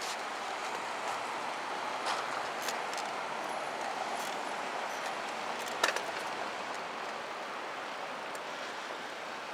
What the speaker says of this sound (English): And that's the front runner train I was talking about.